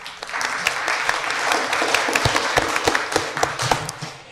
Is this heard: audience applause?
yes